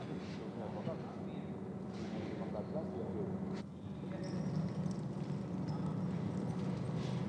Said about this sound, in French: À chaque temps, Freddie Knie fait galoper son cheval